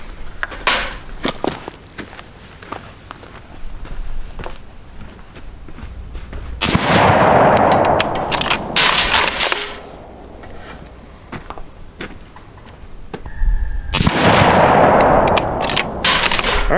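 Two loud rifle shots from a Savage Axis in 6.5 Creedmoor, each a sharp blast with a long decaying echo, fired several seconds apart at an outdoor range.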